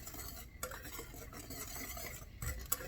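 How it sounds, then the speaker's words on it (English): Banana nut muffin batter ingredients being whisked together in a bowl, a close, steady scraping swish with quick rhythmic strokes and a few light taps of the whisk against the bowl. "we're going to go ahead and just whisk that together"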